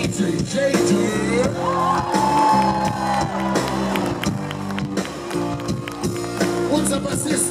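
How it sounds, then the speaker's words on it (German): A festival crowd at a live rock concert at Deichbrand cheers and whoops for the DJ, loud and sustained, with band music and shouts mixed in. "Und ein Applaus für unseren DJ"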